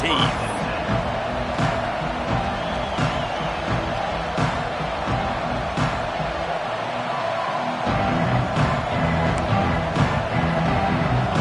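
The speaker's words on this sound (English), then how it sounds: "This crowd ready to make its presence known." Stadium crowd at an Auburn vs Michigan college football game keeps up a dense, steady roar throughout, with a play-by-play commentator talking over it.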